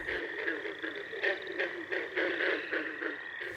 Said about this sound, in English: that's a green frog.